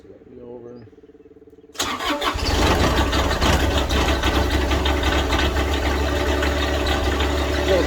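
Small Yanmar diesel engine on a riding mower starts after a quiet cranking moment, then settles into a loud, steady, rough-edged clatter that continues without pause, with a person talking briefly before it catches.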